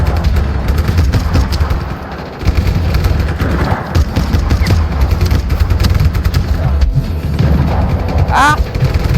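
Dense, rumbling bursts of heavy cannon fire and booms in Just Cause 3 pound continuously, loud and close, with a brief lull and a high whinny-like cry near the end.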